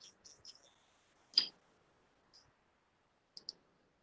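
Computer mouse clicks sound as a few faint, sparse taps in a quiet room, with one louder click in the middle and a quick double click near the end.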